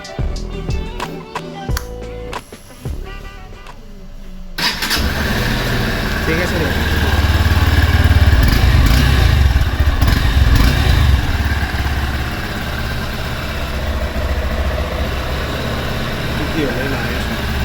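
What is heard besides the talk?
Honda CBX motorcycle engine starting and idling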